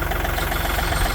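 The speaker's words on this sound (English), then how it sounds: "We have to use our little tiny 50 horsepower tractor just to get bales unloaded." A small 50 horsepower farm tractor engine idles steadily up close, a continuous low throbbing rumble with an even pulse and no voices.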